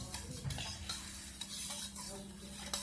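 A spoon stirs sugar into milk in a bowl or pot for shikran, with banana nearby, giving steady scraping and clinking strokes with a few sharper taps, close and fairly quiet, and no voices.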